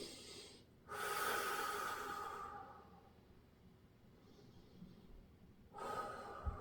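Slow, deep breathing during a floor-based core and flexibility workout: two long, loud breaths drawn close to the mic with a quiet pause between them and no talk.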